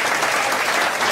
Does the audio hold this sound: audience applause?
yes